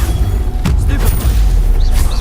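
Stupefy spell cast in Hogwarts Legacy, a sharp magical burst with a booming impact and shimmering whooshes over dense game background noise.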